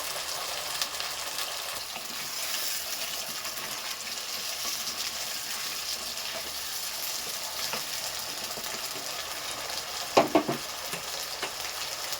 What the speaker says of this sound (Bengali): ওর মধ্যে আমি এই আলুগুলো একটু ভেজে নেব।